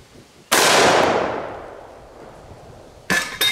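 Single loud, sharp blast from a .500 Smith & Wesson Magnum revolver fired outdoors at a target, decaying over about two seconds, followed by a brief clatter.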